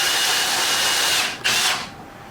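A power drill driving screws into a Ryobi storage cabinet mount, a loud steady whine that cuts off, gives one short final burst, and then stops.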